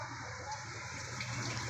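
A Bosch top-load washing machine fills with water: a steady, fairly quiet rush and gush of flowing water runs without a break, with no voices over it.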